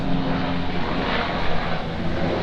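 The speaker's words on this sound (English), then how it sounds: "Chopper, it's a chopper." A helicopter flies overhead near a racing car workshop, its engine and rotor making a loud, steady, unbroken drone throughout with no voices.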